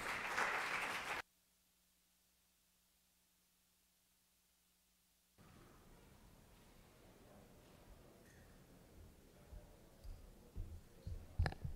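Spectators in a state senate gallery applaud during a legislative session. A short, loud burst of clapping lasts about a second and cuts off abruptly, followed by near silence and then quiet chamber rustling and shuffling.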